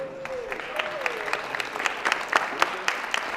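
Audience applause from a crowd at a talk, steady dense clapping held at a moderate level for several seconds, with a few louder individual claps standing out near the end.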